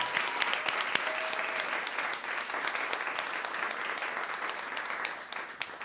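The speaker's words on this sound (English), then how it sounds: "So big round of applause to everyone." Audience applause at a live storytelling evening, a steady spread of clapping with distinct individual claps, fairly faint and distant, tapering off near the end.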